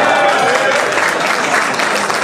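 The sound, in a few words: audience applause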